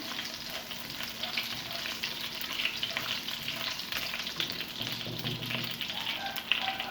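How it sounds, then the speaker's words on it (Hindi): Cumin seeds fry in a tablespoon of hot oil with a steady, close sizzle and crackle, stirred continuously for a spicy chicken biryani; no one speaks. "साथ ही इसमें ये ज़ीरा चला जाएगा, मिक्स करना है।"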